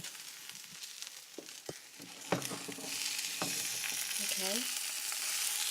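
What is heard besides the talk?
two eggs frying in a pan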